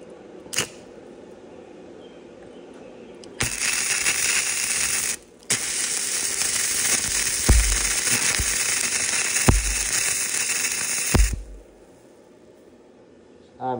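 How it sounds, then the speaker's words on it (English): YesWelder YWM-160 multiprocess welder laying a one-handed bead, a loud steady crackling sizzle lasting several seconds, broken by a short gap and thumps, with quiet room tone before and after. "So I'm going to go ahead and show you guys how this thing welds."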